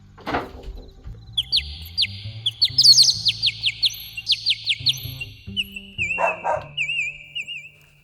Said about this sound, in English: Other examples include crickets or the sound of birds chirping.